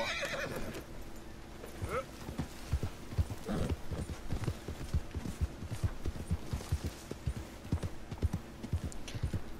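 Horse hooves clip-clop at a steady walking rhythm in Red Dead Redemption 2, close and clear, with a horse neighing and whinnying partway through over faint game ambience.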